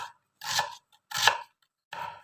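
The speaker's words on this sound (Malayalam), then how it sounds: "ഉള്ളി ഇപ്പം അരിയുക" Onions are chopped on a chopping board in a traditional Kerala home kitchen, three distinct, crisp knife strikes spaced about evenly apart, close and clear against silence.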